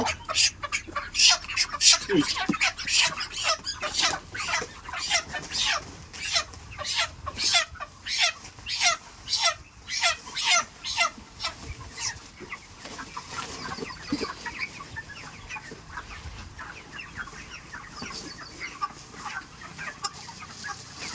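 Broiler chickens packed inside a sack cluck and squawk repeatedly in short, muffled bursts, close by, with a steady rhythmic pattern that grows fainter toward the end.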